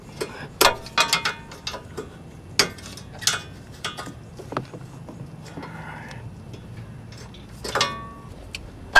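A loose nut on a car's front end is tightened with a hand tool, producing intermittent metallic clicks, ratcheting and clinks at close range over low background noise, with brief pauses between bursts.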